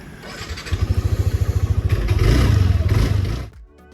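Small 155cc 2017 Yamaha NMAX scooter starting up, a fast putter that rises into a throaty rev and then cuts off, close and fairly loud with no talking.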